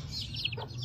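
A hen and chicks being fed make a quick run of thin high chirps and a short cluck, close and clear over a low steady hum, with no talk.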